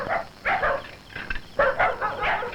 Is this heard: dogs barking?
yes